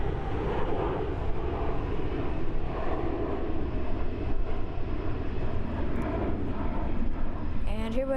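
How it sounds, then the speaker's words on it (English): An Airbus A320-211 airliner at Frankfurt airport produces a loud, steady engine rumble and roar that fills the whole stretch, with voices faintly present underneath. "And here we have a Airbus A320-211 headed to Munich."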